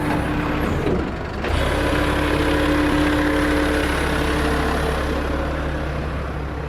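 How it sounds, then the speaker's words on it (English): A truck engine idles steadily while the truck is lifted, a low continuous rumble with a sharp hiss partway through and a faint tonal whine, close by and without speech. "They're lifting the truck up."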